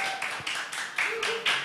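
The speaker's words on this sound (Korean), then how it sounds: "박수로 좀 환영해 주십시오." An indoor audience at a talk event claps to welcome guests to the stage, a brief burst of dense, close applause in several swelling waves.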